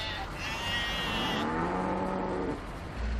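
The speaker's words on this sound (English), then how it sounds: "I'm delivering a cow and 6 goats" A cow lowing and goats bleating from the back of an old 34-year-old delivery truck in Nairobi, long drawn-out calls over a constant engine and road drone.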